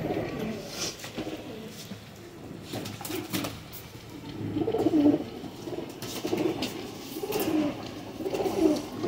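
A pigeon held in the hand for feather plucking gives soft repeated coos at close range, with occasional wing flutters and handling noise, while someone talks throughout.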